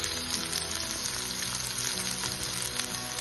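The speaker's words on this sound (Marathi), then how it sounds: "कांद्याची पात जरा परतली, त्यामध्ये हा कोथिंबीर घालून द्यायचं" Spring onion greens and coriander sautéing in a pan, a steady close hiss of frying with light crackle running throughout, no voices.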